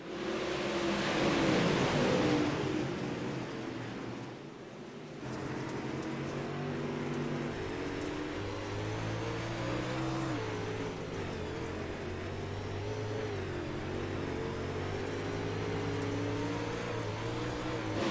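A field of UMP modified dirt-track race cars roars together through a heat race, engine drone layered and sustained across the whole stretch, loud and continuous with shifting pitch as the pack circles, briefly dipping in level before surging back.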